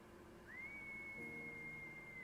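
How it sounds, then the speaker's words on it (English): A character in the video game Tears of Themis whistles one long, steady, sustained note that holds clear and alone against a soft background, lingering for nearly two seconds. "He whistles, and the sound lingers."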